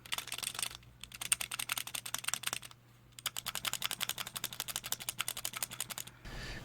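Keyboard keys with stabilizers on a fightstick plate tapped in quick rattling bursts, three clusters of crisp clacks separated by short pauses, close and fairly loud, no voices.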